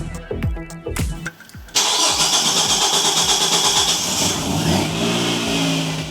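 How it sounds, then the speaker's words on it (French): A car converted to run on ethanol cranks with rapid rhythmic starter pulses, falters for a moment, then catches and settles into a loud, steady running engine close to the microphone. "Maintenant, plus qu'à démarrer la voiture et voir ce que ça fait."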